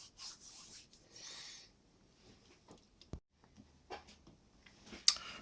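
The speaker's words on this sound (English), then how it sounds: "It's a bit blobby in places, just give it a little rub over." Soft rubbing over freshly glued edges of a 45 mm model bogie, a few brief scratchy passes and light taps, close and quiet with no talking.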